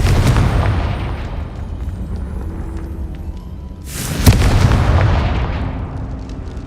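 An explosion in the Hogwarts Legacy video game, cast with the Confringo spell, booms loudly partway through over continuous rumbling battle noise, with a sharp impact crack at its peak.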